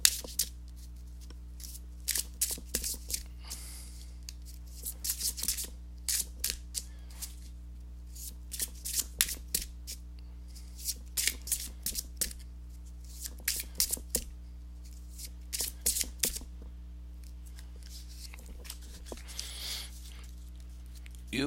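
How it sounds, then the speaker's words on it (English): Tarot cards are shuffled in quick riffling bursts, repeated many times over a steady low hum with short pauses between shuffles. "let me go ahead and give these cards a shuffle"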